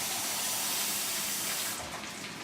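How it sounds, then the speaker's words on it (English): Tap water runs into an emptied can of cream of mushroom soup, a continuous gushing, splashing stream heard close and fairly loud, tapering slightly near the end. "And then you want to get about a half a can of water."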